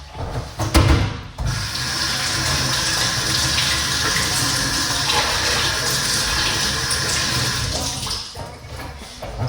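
Limes rinsed under a running kitchen tap: a steady, close rush of water pours continuously, with a brief clatter and splashing near the start and no talk.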